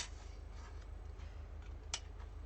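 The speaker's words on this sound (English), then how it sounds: "I think we obviously need to cut our middle bit" Scissors cut through paper in faint, quiet snips, with one clearer crisp cut near the end over a low steady hum.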